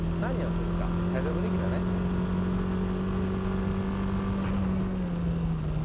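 A low car held in a sideways drift with the e-brake pulled, its engine droning steadily at a sustained high pitch throughout, with tire noise layered underneath.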